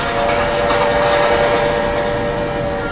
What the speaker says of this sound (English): A packed train speeds on its way south